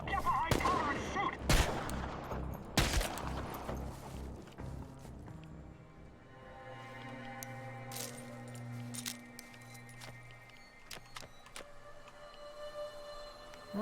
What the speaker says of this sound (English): Get behind cover and shoot.